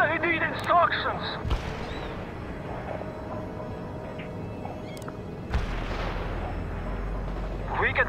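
Heavy artillery barrage in the strategy game World in Conflict, deep rumbling booms and sharp blasts rolling under steady battlefield noise, with radio-style voices talking over it.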